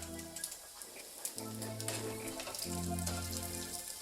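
Bacon sizzles in a pan with a dense, continuous crackle and pop, fairly close but soft, while a background tone with steady musical notes runs underneath.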